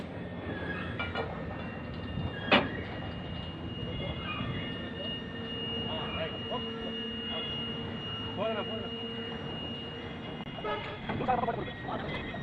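A train moves slowly during unloading of rail panels, a low rumble with metallic squeals and clanks from wheels and wagons, fairly close, while someone talks over it.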